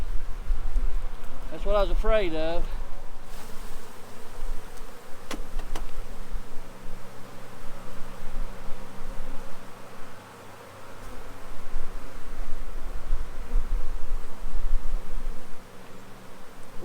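Honey bees buzz steadily around an open hive with a failing queen and a dwindling colony, a continuous close drone with a brief louder swell early on, and someone speaks briefly over it.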